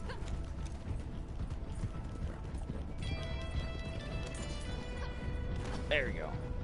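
Horse hooves clip-clopping in Red Dead Redemption 2 Online, a steady run of hoof beats under game music and effects, with a brief neigh near the end.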